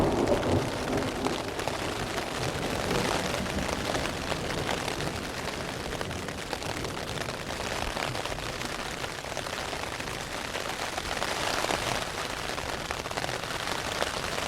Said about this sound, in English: There's obviously thunder going off in the background.